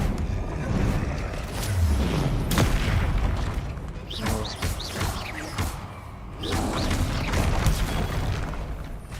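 Confringo fire spells blast in Hogwarts Legacy during combat, a run of booming explosive hits and thuds in a dense, loud game soundscape.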